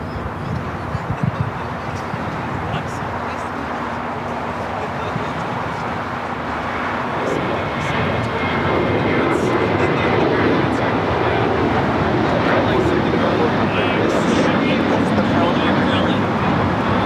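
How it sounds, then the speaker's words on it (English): An American Airlines Boeing 737-800 bound for Las Vegas takes off at LAX: a broad jet roar that swells and holds louder through the second half, with people talking over it. "That was American Airlines flight 2654 heading to Vegas in the 737-800."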